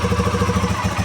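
A Modenas Z15GT motorcycle engine idling steadily up close, a loud even throbbing with a rapid regular pulse and no talk.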